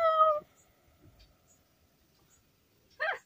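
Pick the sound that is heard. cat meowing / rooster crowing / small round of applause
cat meowing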